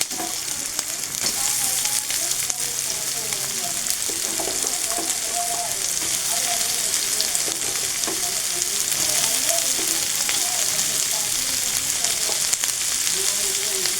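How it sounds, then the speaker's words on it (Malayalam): Chopped small onions (shallots) fry in hot oil in a pan for an onion theeyal, giving a steady, loud, even sizzle throughout with light stirring scrapes mixed in. "കുറച്ച് എണ്ണ ഒഴിച്ച് ചൂടാക്കി അതിലേക്ക് അരിഞ്ഞു വെച്ചേക്കുന്ന ഉള്ളി, ചെറിയ ഉള്ളി എടുത്ത് വഴറ്റാൻ"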